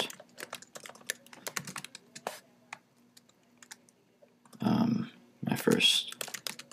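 Someone types HTML code on a computer keyboard. Close, light clicks come in quick irregular runs, followed by a few louder, fuller bursts of keystrokes near the end.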